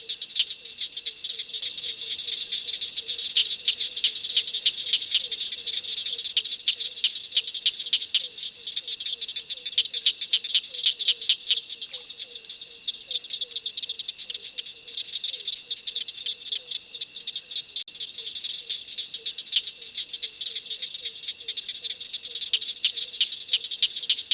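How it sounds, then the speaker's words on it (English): A dense, continuous chorus of rapid clicking cricket frog calls fills the night on the Florida prairie, steady and unbroken throughout, with no other sounds standing out. "There was a pretty constant chorus of cricket frogs the whole night."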